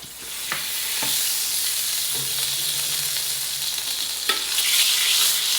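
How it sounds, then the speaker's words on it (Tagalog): Cooking oil heats in a pan and sizzles in a continuous close hiss that swells toward the end, broken by a few sharp clinks of utensils. "Hayaan muna natin uminit yan bago natin lagyan ng mantika."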